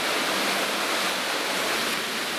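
Water rushes down through a mine after a dam breaks, a loud, dense, unbroken roar of torrent filling the whole scene.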